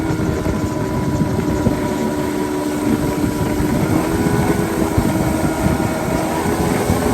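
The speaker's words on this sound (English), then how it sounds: "the engine hums" A boat engine drones steadily and loudly up close on a lagoon cruise back from Nzulezu stilt village, Ghana, a constant low throbbing hum with no change in pace.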